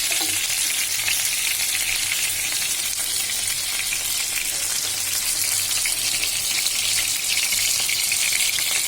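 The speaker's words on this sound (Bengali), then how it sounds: "আমার মাছ ভাজা হয়ে গেছে।" Fish frying in a pan with oil, a loud, continuous close-up crackling sizzle that stays steady throughout with occasional stirring movement.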